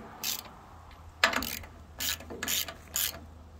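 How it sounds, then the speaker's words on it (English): A 9/16 wrench ratchets a bolt loose on a Thomas bandsaw mill, giving several short, crisp clicking bursts with brief pauses between them, close and fairly loud. "Take my 9/16. Loosen that bolt back up."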